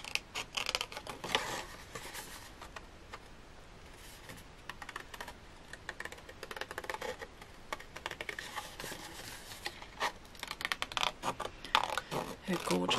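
Scissors snip through card to cut out a paper figure for a concertina card, with bursts of close, crisp cutting clicks coming in uneven runs.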